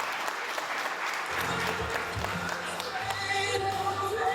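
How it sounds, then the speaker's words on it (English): An audience at a high school athletic hall of fame induction ceremony applauds in a dense, steady clatter of many hands, with a low voice murmuring underneath partway through. "A round of applause for Nancy Smith."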